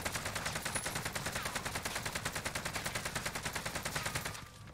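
AK-47 automatic gunfire in Call of Duty Cold War, one long sustained burst of rapid, evenly spaced shots lasting about four seconds before cutting off abruptly into quiet.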